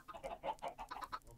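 Chickens in the video game Minecraft cluck in a quick run of short, clipped calls, fairly close and steady over a faint background.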